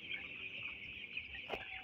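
Ten-day-old broiler chicks on a farm give a dense, continuous chorus of high peeping and clucking, steady and close, with no voices.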